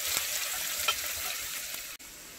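Vegetables with green chilies, mint and capsicum sauté in a pan, giving a steady close broadband sizzle with a few light stirring clicks and a brief drop near the end.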